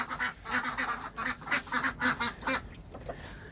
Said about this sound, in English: But I don't think you met the ducks.